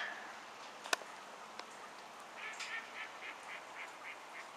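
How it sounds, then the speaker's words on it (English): Outdoors in a rainy, flooded park, a duck quacks in a quick run of faint, rhythmic calls at moderate distance, over a soft background hiss with an occasional nearby click. "That duck sounded like it was laughing at me."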